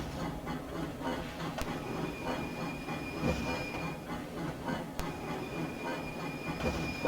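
A long freight train with coal cars in the video game Trainz rolls steadily along level track, a continuous rumble with rhythmic wheel clatter and a faint metallic squeal, no voices.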